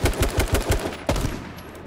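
Rapid gunfire in the video game H1Z1, a quick burst of about seven loud shots in rhythm, then a single heavier shot and a fading tail, with no talk.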